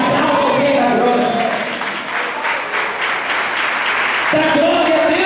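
A church congregation claps together in a sustained, crowded burst of applause, with sung or sustained voiced tones and instruments sounding beneath it at the start and returning near the end.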